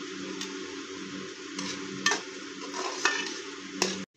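Okra (bhindi) frying in a pan, a close, steady sizzle with several spatula scrapes and stirring knocks breaking through at intervals, no voices.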